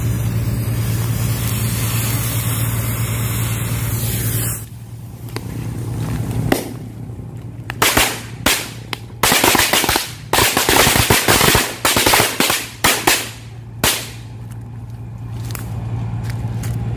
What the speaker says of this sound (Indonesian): Oke, sekarang kita cobain petasan korek 1 gepok.